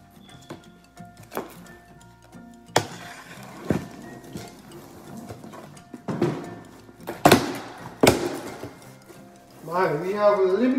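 Metal chafing dish parts clank and clink while being unboxed for catering setup, with scattered sharp knocks and rattles spread across the clip amid rustling packaging.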